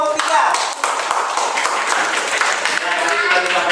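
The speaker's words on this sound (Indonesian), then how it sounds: "Iya, tepuk tangan untuk kelompok 3" A classroom of pupils applauds group 3, a continuous busy clatter of many hands throughout, fairly loud and close, with young voices mixed in.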